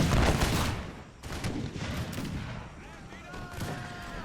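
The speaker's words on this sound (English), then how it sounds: "The musket sounds in this mod are amazing." Musket fire in the Imperial Splendour mod for a historical battle game, dense crackling volleys that start loud, dip, then carry on more faintly, with a voice talking over the battle.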